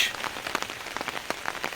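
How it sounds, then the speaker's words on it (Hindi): Steady rain patters on a hard surface nearby, with scattered louder drops landing throughout. "अनायास ही आज बारिश हो रही थी"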